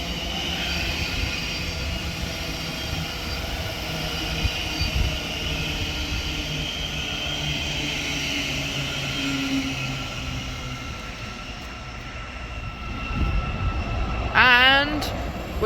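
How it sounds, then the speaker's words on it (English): A Class 700 electric multiple unit, 700-015, pulling in at Hatfield station on a service to London King's Cross, heard as a sustained rumble with rail squeal and hum, then a rising horn-like sweep near the end. "Coming in now we have 700-015 working a service to London King's Cross from Letchworth Garden City."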